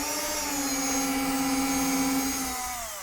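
An electric drill bores a hole through a model railroad baseboard while an uncoupler is being installed, giving a steady, close, continuous motor whine that holds for about three seconds before easing slightly at the end.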